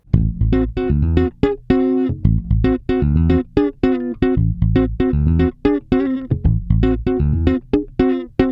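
Bass guitar picking neighboring tritone intervals from a riff, a steady run of close, loud plucked notes in a quick repeating pattern, alone with no talking.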